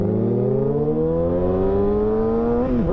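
Supersport motorcycle engine revving on a twisty Florida road, one steady, loud, rising drone climbing in pitch over a few seconds, then dipping sharply at the end as the throttle closes into engine braking.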